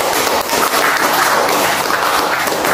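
Classroom audience applauding a presentation group, dense steady clapping from many hands filling the room for a few seconds.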